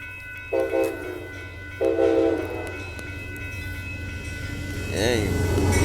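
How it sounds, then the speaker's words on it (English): Amtrak Texas Eagle passenger train number 22 passes at a road crossing in Austin, Texas, sounding two loud horn blasts early on, with steady rumbling rail noise and a rising horn tone near the end. A voice speaks briefly. "Here comes Amtrak Texas Eagle train number 22,"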